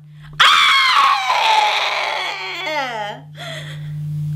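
A performer in a comedic monologue imitates a man screaming in pain. The voice gives a loud, close, drawn-out wailing scream that wavers, breaks into shaky sobbing and ends with a short whimper.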